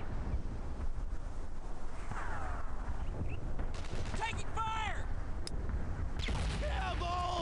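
Gunfire in the World War II shooter Brothers in Arms: Earned in Blood, with sharp scattered shots and booms among wind-like noise and shouted voices.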